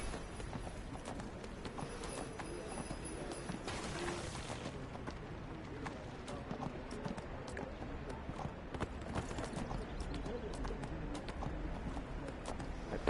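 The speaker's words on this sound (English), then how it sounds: "Right, Goliath, my invisible horse." Horse hooves clip-clop at a steady trot in the Neverwinter video game, a close, continuous rhythmic clatter over faint game ambience, with no talk.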